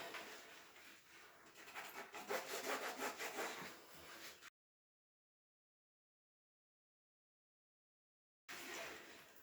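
Dye being rubbed into fabric by hand, a close, steady scrubbing rasp that breaks off into silence midway and then briefly resumes, with no voices.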